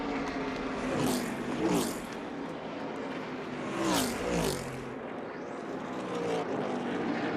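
ARCA Menards Series race cars at the General Tire 150 at Charlotte Motor Speedway roar past one after another. Each loud pass rises and then drops in pitch over a constant background engine rumble.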